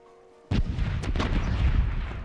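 Cannon fire booms in the naval game Corsairs Legacy as a shot strikes the player's ship: a sudden loud, close blast followed by a dense rumbling roar of further impacts that runs to the end.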